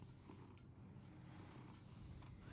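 A cat purring in the Batman Telltale Series game, a steady low rumbling purr that continues alone throughout the short stretch, fairly quiet and close.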